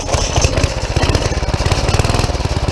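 A small go-kart engine chugs loudly nearby, running in a fast, steady putter with a rough, uneven idle throughout.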